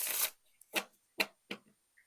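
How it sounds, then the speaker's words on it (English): Tarot cards are riffle shuffled close up: a quick burst of fluttering card snaps, then three or four short, crisp riffles and bridge taps, faint and quiet with pauses between. "If you're doing like riffle shuffling"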